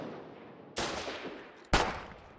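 Gunfire in the war game Foxhole: two sharp, loud shots about a second apart, each cracking out and then trailing off with a short echoing tail.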